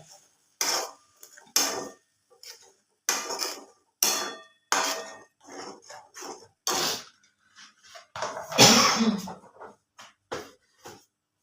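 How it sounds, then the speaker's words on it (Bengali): Paneer masala is stirred continuously in a pan, giving a series of distinct scraping and clanking strokes of a spatula against metal. The strokes are spaced about a second apart, close up, and one longer, heavier scrape comes near the end. "এখন আমি এইটাকে এখন কন্টিনিউয়াসলি নেড়ে যাব যাতে করে মশলাটা তলায় লেগে না যায়"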